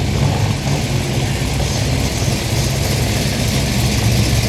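Another Ford rolling into a Mile End car meet, its loud low engine drone steady and near the whole time, with no talking.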